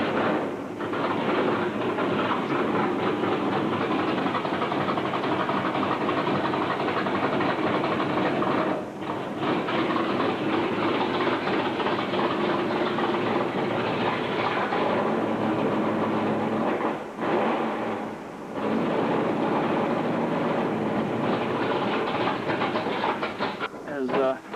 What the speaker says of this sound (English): We now have side exhaust, 4-inch pipe with no mufflers in it.